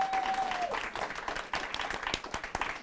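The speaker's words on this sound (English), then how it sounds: "That deserves an applause" Applause from a studio audience during an interview show, a steady patter of many hands clapping at moderate volume for a few seconds, with brief talk at the start.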